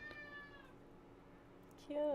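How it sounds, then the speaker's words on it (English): A cat meows, a drawn-out call near the start and another rising meow at the end, over a faint background with soft voices nearby. "He keeps meowing."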